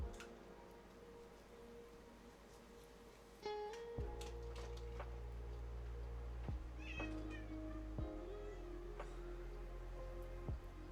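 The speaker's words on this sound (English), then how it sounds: "But also, cat." A cat meows several times in short calls, close and clear, over a steady low hum indoors, with no talk.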